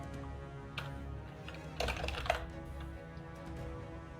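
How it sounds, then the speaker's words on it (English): Fast, busy typing on a computer keyboard during a Dungeons and Dragons tabletop session, a steady patter of key clicks with a denser burst of strokes midway, fairly close and with no talk over it. "typing like a madman"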